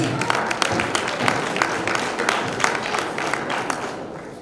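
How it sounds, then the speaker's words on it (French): Applause from a school quiz audience in a French-language competition, a dense burst of many hands clapping close by at steady loudness throughout, with voices mixed in. "on applaudit"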